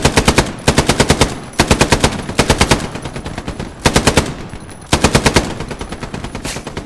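Two machine guns firing in the video game Hell Let Loose: loud, close bursts of rapid automatic fire, about five or six bursts with short gaps between them, no talk over the shooting.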